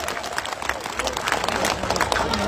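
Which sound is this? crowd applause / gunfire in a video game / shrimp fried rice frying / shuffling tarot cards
crowd applause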